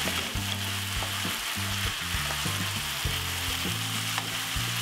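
Broken-up corned beef fries in a pan with a constant crackling sizzle, heard close and alone beneath a low, steady electrical hum.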